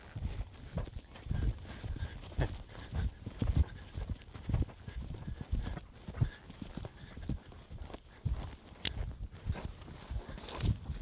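A horse canters nearby, its hooves thudding in a fairly quick, uneven rhythm for about eleven seconds at moderate volume, with no clear talk over it.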